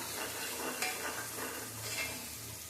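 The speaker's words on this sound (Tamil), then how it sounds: "சேர்த்துட்டு நல்லா வதக்கி விட்டுடலாம். நல்லா வதங்கணும்." Green chillies and onion sauté in a pan, a quiet close sizzle with soft scraping stirs and faint utensil clicks against the metal.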